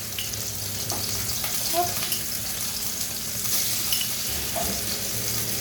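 Onions sizzle steadily in a pan with oil and a little butter on a home stove, a constant close crackle; a voice speaks briefly over it.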